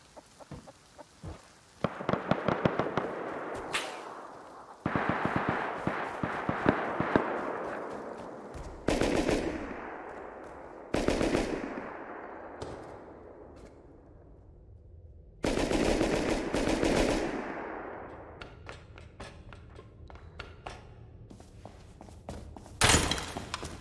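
Rapid bursts of pump shotgun and other gunfire in the video game Rust crackle loudly in game-style volleys, separated by short pauses, with dense rattling between the louder blasts.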